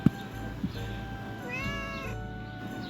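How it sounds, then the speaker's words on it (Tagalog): A cat meows once nearby outdoors by a hammock, a clear rising-and-falling call in the middle, with faint background noise and a couple of soft thumps. "nakita ko yung pusa namin na sumusunod sa akin"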